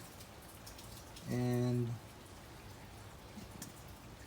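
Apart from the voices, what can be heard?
rain falling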